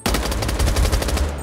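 A gun in the Knives Out shooter game fires a loud, rapid automatic burst of roughly a dozen evenly spaced shots, close and alone.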